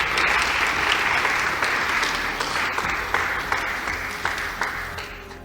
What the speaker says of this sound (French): sous nos applaudissements bien sûr.